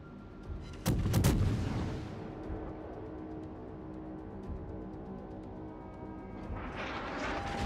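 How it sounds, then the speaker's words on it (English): Battleship Wyoming's guns fire in a naval video game, giving one heavy, booming salvo followed by a long, rumbling roll that fades into low background noise. "That's the Wyoming guns."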